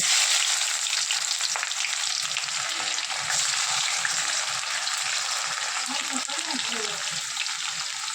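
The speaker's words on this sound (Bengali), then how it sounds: "এরপর এতে আমরা কুচনো পেঁয়াজটা দিয়ে দিচ্ছি" Chopped onions hitting hot oil with bay leaves and whole dried red chillies for a country chicken curry, a loud dense sizzle that holds steady throughout, with soft stirring scrapes and brief low murmurs near the end.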